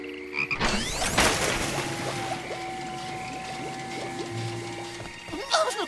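Cartoon frogs croak in a loud chorus of stuttering ribbits over a watery background, with a sharp splash near the start.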